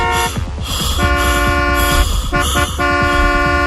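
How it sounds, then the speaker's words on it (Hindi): Loud, sustained car horn honking in bursts, a flat harmonic blare that cuts out briefly and resumes, over rumbling traffic. "एक कार के हॉर्न से"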